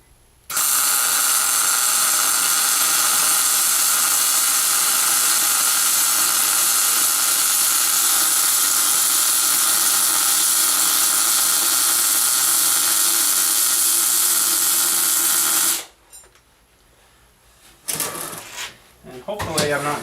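Heavy welding on a fabrication job makes a loud, steady, crackling hiss that runs unbroken for about fifteen seconds, then cuts off and is followed by quieter clanks and handling noises nearby.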